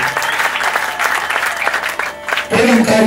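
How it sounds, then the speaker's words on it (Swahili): A church congregation at an episcopal ordination service in Goma claps together in a dense, sustained burst of applause, with what may be ululation rising over it. The sound swells louder and brighter in the last half-second. "Tunapiga makofi na vigelegele kwa ajili yake."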